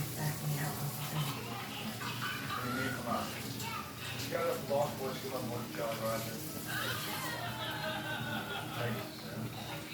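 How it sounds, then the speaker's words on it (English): Tap water runs into a kitchen sink as hands are washed beneath it, a continuous splashing rush with a voice talking over it. "first I'm going to wash my hands"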